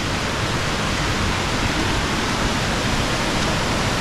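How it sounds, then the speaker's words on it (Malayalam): Water pours over a small check dam at a resort, a dense and steady rushing roar that stays even and continuous throughout. "ഇവിടെ ഒരു വെള്ളച്ചാട്ടത്തിൻ്റെ സൗണ്ട് കേൾക്കുന്നുണ്ട്"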